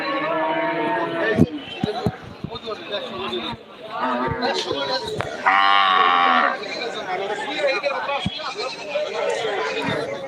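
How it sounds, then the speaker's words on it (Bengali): Cattle at a village livestock market low with one long, loud moo standing out amid a busy crowd of chatting voices and scattered knocks. "দেখুন অনেক গরু নিয়ে আসতেছে"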